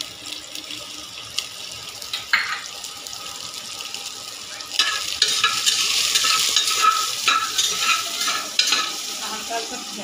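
Onions lightly frying in a pan for dal. Quiet scraping and stirring give way, about halfway through, to a louder, crackling sizzle broken by clinks of a spoon against the pan.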